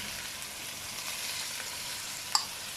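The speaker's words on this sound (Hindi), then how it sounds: "ऐसे 2 मिनट के लिए मैदे के साथ भूनेंगे" Chicken pieces frying with a couple of spoons of flour in a pan, giving a soft even sizzle that stays constant throughout, with one brief sharp clink near the end and no talking.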